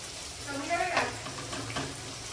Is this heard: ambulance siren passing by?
no